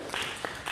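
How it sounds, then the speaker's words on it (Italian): A talk-show studio audience applauds as the president of Abruzzo National Park is welcomed, in a short burst of clapping with a few louder claps standing out. "applauso per il presidente Fulco Pratesi."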